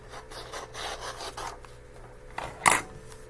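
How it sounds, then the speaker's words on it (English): Scissors trimming the sides, top and bottom of a paper note page for a notebook: a run of soft, rhythmic cutting rasps, then a louder, sharper snip near the end, close by with no talk. "you are going to trim it up. Trim off the sides, the top, and the bottom."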